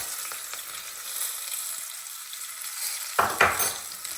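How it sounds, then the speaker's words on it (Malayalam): Curry leaves hit hot oil already holding broken dried red chillies, bursting into a loud, crackling sizzle about three seconds in over a steady background fry, while cooking lemon rice. "ഇനി കറിവേപ്പില ഇട്ട് കൊടുക്കാം"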